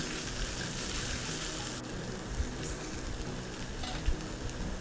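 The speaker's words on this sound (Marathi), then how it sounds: "आता हा आपण मसाला यावरती टाकून देऊ" Okra frying in a pan as masala spices are added, a steady dense sizzle throughout with a couple of soft stirring knocks, close and even in level.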